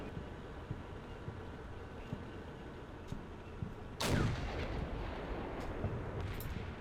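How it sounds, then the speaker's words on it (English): A single heavy 125mm tank cannon shot booms in the Combat Mission: Cold War video game, a sudden loud blast that rolls into a long rumbling tail over a low background hiss. "our 125mm cannons don't seem to be getting the job done in their tanks"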